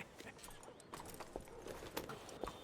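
A horse's hooves clip-clop in Red Dead Redemption 2, irregular moderately close strikes on the ground over a quiet background, with no talk.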